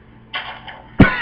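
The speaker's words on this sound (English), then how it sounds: "Sorry for all the coughing." A single harsh cough from an itchy throat, close to the mic, preceded by a brief throaty rasp, with a quiet indoor background.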